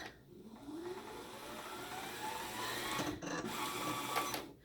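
A Janome Skyline S9 sewing machine winds a bobbin with a steady motor whir. The pitch rises slightly as it speeds up, and it stays fairly quiet and close throughout with a brief dip near the end.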